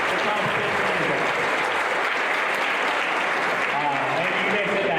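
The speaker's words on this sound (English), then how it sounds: "And give them a round of applause" Sustained applause from an audience at a middle school instrumental music concert, honoring sixth graders; dense steady clapping fills the whole stretch, with faint voices and a few tonal sounds surfacing near the end.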